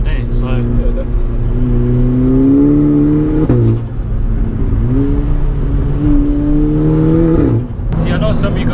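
A 435 bhp VW Golf GTI accelerating hard from inside the cabin, its engine note climbing steadily in pitch through one gear, dropping at a shift, then rising again before another shift, loud and continuous.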